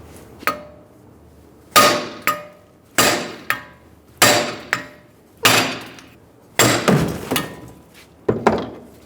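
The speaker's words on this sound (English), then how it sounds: "our second hammer and we're going to hit on the back of this one and we're going to drive the hub out" A hammer drives a wheel hub out of a Toyota Camry, landing about eight loud, sharp metallic blows at an irregular pace, each ringing briefly before the next strike, with no voices.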